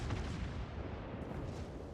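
A torpedo strike on a warship in World of Warships, heard as a dense, sustained roar of explosion and rumbling game noise that stays loud and steady throughout, with no talking.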